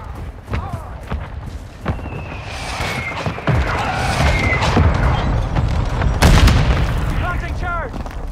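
Mortar strikes land in a Call of Duty: Modern Warfare II multiplayer match, a series of deep booming explosions with rumbling tails, scattered gunfire and game voice callouts around them, growing heavier toward the end.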